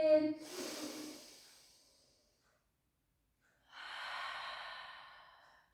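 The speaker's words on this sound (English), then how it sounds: "Take a breath in." A deep breath taken during a Pilates stretch: a close, airy inhale through the nose that fades out, then a pause, then a long, soft exhale.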